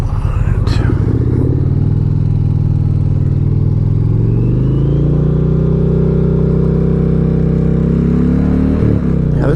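A 2021 Indian Challenger Limited motorcycle cruises steadily, its engine a loud, continuous low rumble with heavy wind noise, the pitch rising gradually midway through as it accelerates.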